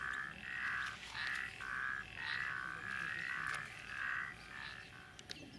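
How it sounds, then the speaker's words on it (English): Frogs croak repeatedly in standing water at Auschwitz in a steady chorus of rhythmic, rasping calls, fairly close and loud over a low background hum. "the frogs have taken advantage"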